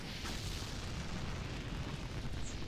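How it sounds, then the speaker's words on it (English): A rocket launching in Call of Duty: Black Ops 3 on the Ascension zombies map, a continuous loud, deep roaring rumble that holds steady and close without letup. "Launch the rocket."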